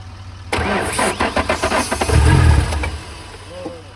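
A Ford Ranger race truck engine cranks with a rapid rhythmic starter chatter for about two seconds, then catches with a low rumbling burst and settles. The sound is close and loud.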